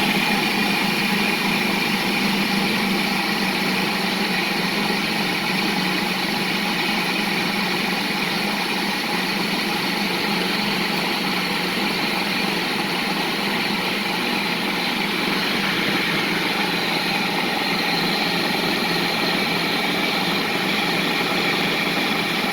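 A kitchen appliance runs on its dough setting while blending hummus with olive oil, giving a steady, loud, continuous motor whir with a broad grinding hiss that holds unchanged throughout, close by and with no voices.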